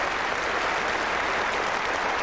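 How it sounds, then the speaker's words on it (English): A crowd at a 1977 England v Australia Test cricket match at Trent Bridge stands and applauds a century, steady dense clapping close and loud throughout. "This crowd rise on their feet to applaud."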